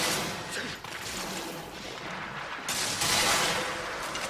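Valkyrie Fire bowgun shots in Monster Hunter 3 Ultimate: a dense run of loud, sharp blasts that overlap into a steady barrage, swelling louder near the end.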